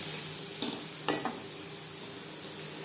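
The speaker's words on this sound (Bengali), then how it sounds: "পেঁয়াজ অবশ্যই লালচে করে ভেজে নিতে হবে" Onions frying in a pan until reddish brown, a steady soft sizzle with a few brief stirring scrapes partway through, close by and without talk.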